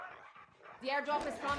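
Dog barking and whimpering from a K9 unit in the Call of Duty Mobile video game, a few short yips under an announcer's voice and busy game sounds.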